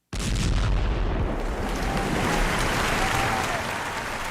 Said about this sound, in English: Hit the boom and the applause.